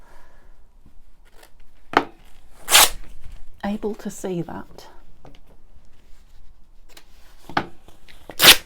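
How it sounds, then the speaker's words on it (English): Paper for a handmade journal is torn in several short, crisp rips spread across the moment, with someone speaking softly between them. "Oh, that's ripped nice."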